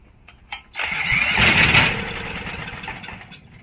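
A Coleman generator engine, primed with fuel at the carburetor, cranks briefly and kicks into a rough sputtering burst of a couple of seconds before dying away, loud and close with no talk.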